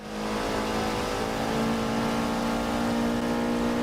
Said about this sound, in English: heading down the main straight at Monza to start a lap, we're on board with TRAC Joe and the Audi RS3 LMS, the number 17 car